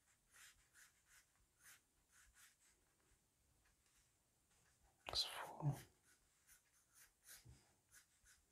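Pencil strokes scratch across paper while drawing a row of evenly sized heads, repeated short rubbing bursts, quiet and close, with a louder scrape partway through and no talking.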